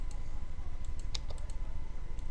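Computer keyboard keys and a mouse being pressed, a few light separate clicks and taps close by over a quiet steady hum, no voice.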